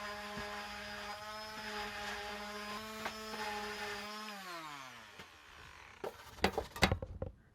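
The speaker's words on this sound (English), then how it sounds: "More sanding." A steady power-tool whine from sanding wood, with harmonic tones, runs for several seconds, pitch dropping as it winds down, followed by a few sharp knocks and clatters.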